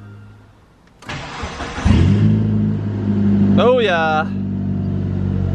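A Mitsubishi Evo engine cranks briefly, catches and settles into a loud, close idle, then gives one short sharp rev before returning to idle, with a voice exclaiming over it.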